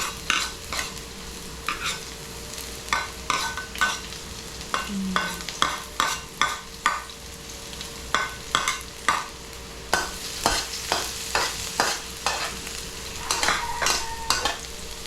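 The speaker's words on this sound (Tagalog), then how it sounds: "Antayin lang po natin maluto yung bawang" Garlic sautéing and frying in a pan, with a steady sizzle under repeated stirring scrapes of a utensil at a fairly even rhythm, close and alone without talk.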